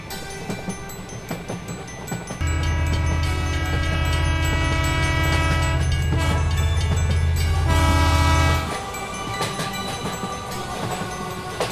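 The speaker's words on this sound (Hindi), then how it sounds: "अब इन लोगों की ट्रेन भी चल देती है" Cartoon train pulling away from a station, a loud steady rumbling chug with a sustained horn-like tone over it that fades after several seconds into quieter background noise.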